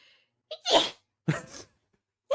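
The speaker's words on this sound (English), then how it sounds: "I was trying to like warn that I was gonna sneeze, but it came before I could." A single person's sudden sneeze bursts out in two sharp explosive parts, followed by a brief breathy sound, close and loud against near silence.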